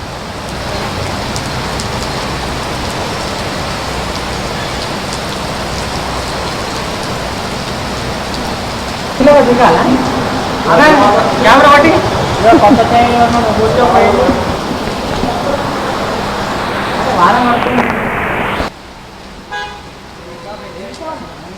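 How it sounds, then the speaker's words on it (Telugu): Heavy rain with gusty winds pours steadily in Hyderabad, joined midway by passing traffic and a brief car horn, before the sound cuts to quieter background. "హైదరాబాద్లోని పలు ప్రాంతాల్లో ఈదురుగాలులతో కూడిన వర్షం కురుస్తోంది."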